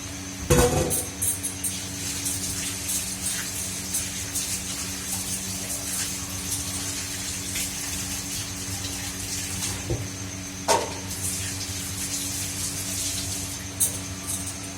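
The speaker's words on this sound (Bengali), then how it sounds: "এই যে হাত ধুয়ে নিয়েছি।" Tap water runs in a steady, close rush while hands are rinsed clean after feeding a child, with a few soft knocks against the basin along the way.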